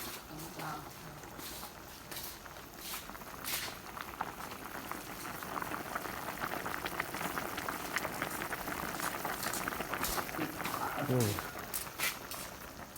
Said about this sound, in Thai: ค่อยๆเคี่ยวไปใช่ไหมยาย